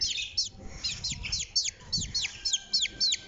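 A hen, kept as a pet at home, gives a run of repeated short calls, close by and fairly loud, with a low rumble of background noise underneath and no talking.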